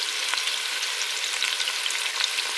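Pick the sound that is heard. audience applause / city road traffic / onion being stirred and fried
onion being stirred and fried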